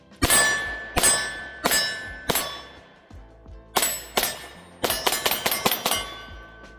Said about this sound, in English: But let's shoot it slow, and we'll do some fast shots.